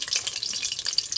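Green banana koftas frying in hot oil, a steady close crackle and sizzle with dense bursts of spattering bubbles, continuous and fairly quiet throughout.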